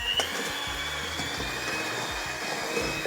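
Electric hand mixer whirring steadily as it blends anari and tvarog cottage cheese, a continuous close motor hum with a thin high whine and no talking.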